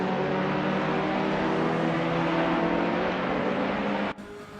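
Race cars in a racing video game, including a 2013 Peugeot 208 R2, hold a steady, loud engine drone with tonal whine, which cuts off abruptly near the end.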